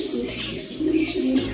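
Pet birds coo softly and close by in a low, rolling murmur, with a few brief chirps mixed in.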